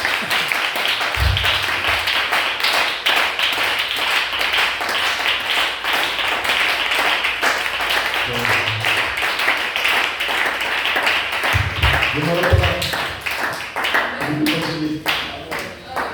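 A church congregation applauding at length, steady sustained clapping from many hands filling the room, with voices speaking and calling out over it.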